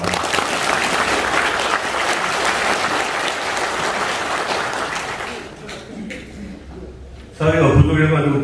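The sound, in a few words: audience applauding the new clan association chairman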